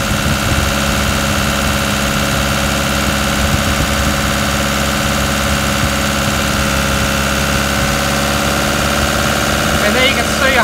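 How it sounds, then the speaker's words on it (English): A Toyota Hilux engine runs steadily at 2000 RPM under electrical load from a high-output alternator, a loud continuous mechanical drone with dense rattling texture throughout. "it's going to be a little bit noisy because we've got the engine at 2000 RPM now"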